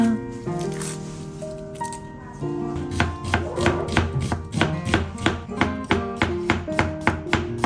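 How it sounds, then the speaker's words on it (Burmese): Garlic is sliced with a knife on a cutting board while preparing spicy and sour crispy fried anchovies. Close, crisp knife strikes start sparse, then settle into a quick, steady run of regular chops with no talking. "ကြက်သွန်အဖြူနီးလှီးထားပါမယ်"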